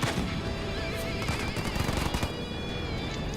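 Dense, continuous gunfire from a Halo Wars 2 real-time strategy match, with snipers among the units firing: rapid overlapping shots and crackling bursts rolling steadily for a few seconds, fairly loud, with no talk over it.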